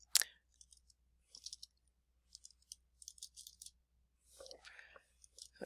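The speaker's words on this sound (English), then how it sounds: "If I could type" Someone types on a computer keyboard in short, soft clusters of clicks with pauses between, close but quiet in a still room.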